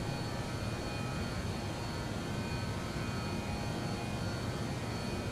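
Avro RJ85 airliner climbing out after takeoff from London City in a flight simulator, its steady engine roar filling the cabin with broadband noise and faint tonal whines, continuous and even with no talk.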